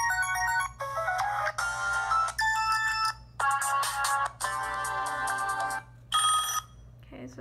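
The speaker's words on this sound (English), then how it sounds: "And then the ringtones." Several ringtones on a ZTE Grand X Max 2 smartphone play one after another, each a bright electronic melody or chime lasting a second or so, separated by short pauses over a steady low hum.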